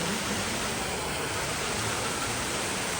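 Water gushes steadily from the mouth of a dragon statue fountain, a dense, continuous splashing rush that fills the whole short stretch with no voices.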